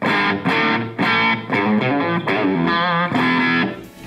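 An electric guitar with humbucker pickups, played through a Line 6 Helix, plays a run of picked notes and chords with a slightly gritty, overdriven edge, close and fairly loud, no voices.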